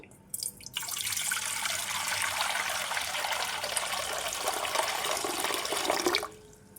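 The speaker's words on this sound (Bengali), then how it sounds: "এতে দেব অর্ধেকটা পরিমাণে জল, নর্মাল জল।" Normal water pours from a tap or jug into a pot, filling it about halfway in one continuous close, bright splashing stream lasting several seconds before stopping abruptly.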